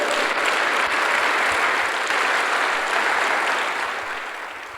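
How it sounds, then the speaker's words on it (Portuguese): Sustained, even applause from a congregation at a pastors' gathering, a thick wash of clapping that holds steady and then slowly fades toward the end. "Pode dar um aplauso a Jesus."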